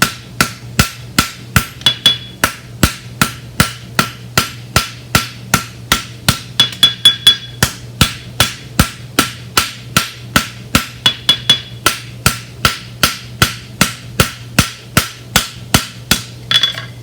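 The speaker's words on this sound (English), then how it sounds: "my hammer's below the face of the anvil, and I'm pushing that edge over" Steady, rapid hammer blows ring out on an anvil as a farrier shapes the edge of a deep-seated bar horseshoe, dozens of sharp, evenly spaced metallic strikes, loud and close, with no speech.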